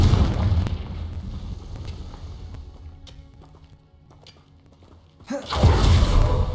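Confringo blasting spell explosion in the game Hogwarts Legacy: a loud, booming burst with a rumbling fiery tail that fades, then a second heavy blast near the end, with no talk.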